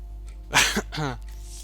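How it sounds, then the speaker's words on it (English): A person coughs close up in one short, harsh burst, followed by a rougher throat-clearing sound, with a steady low hum underneath. "How loud is my coughing, by the way?"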